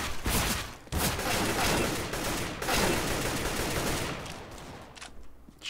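Rapid bursts of video game gunfire crackle loud and dense, sustained volleys broken by a couple of brief pauses, with no talking over them.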